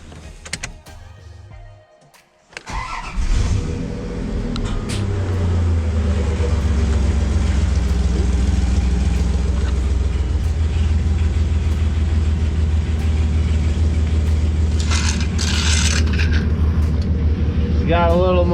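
A Dodge Dakota truck engine runs after repair, starting with a low rumble that settles into a steady loud idle with a deep low hum, with a brief higher whine near the end.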